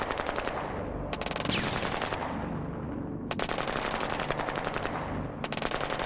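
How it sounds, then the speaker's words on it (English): Rapid bursts of 25mm howitzer fire in a strategy video game, loud and close with dense repeated reports across the clip, broken by short pauses between volleys. "the 25mm howitzers are actually still pretty effective"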